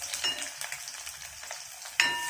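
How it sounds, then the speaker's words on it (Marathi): Onion frying with whole spices in a pan while preparing chicken fry: steady close sizzle with scattered crackles and stirring, then a louder burst of sizzle toward the end, no talking. "आता मी मसाला टाकत आहे, खडा मसाला टाकत आहे। त्यानंतर आता मी कांदा टाकत आहे।"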